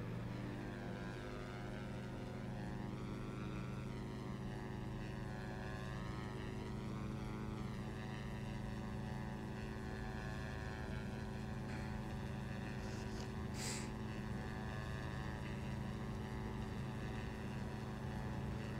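Diamond DA-62 twin-propeller plane rolling for takeoff in X-Plane 11, a loud steady propeller drone with rising engine tones throughout and no talking.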